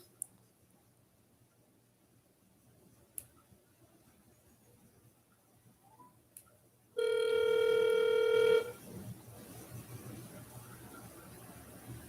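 Outgoing telephone call ringing: after a few faint clicks in a quiet room, a single loud, steady ring tone of about a second and a half sounds close, followed by low line hiss.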